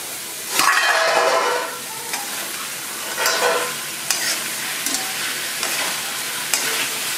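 Young jackfruit being stir-fried in a pan for a Bengali prawn dish, with repeated scraping strokes of a spatula in uneven rhythm over a soft sizzle, close and fairly loud.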